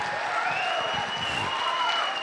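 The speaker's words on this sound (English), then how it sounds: "Give yourselves the standing ovation." Audience applause at a gala for Gulfshore Playhouse, a dense steady wash of clapping from a large crowd, even in level throughout with no talk.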